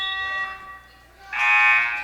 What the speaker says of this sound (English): And that buzzer went off.